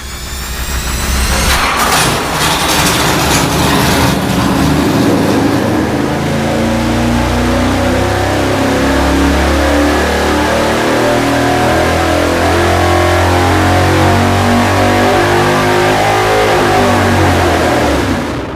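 A Chevy 350 or Ford 351 V8 roars on an engine dyno, revving hard at first and then holding a loud, steady, sustained run at high load with no talk over it.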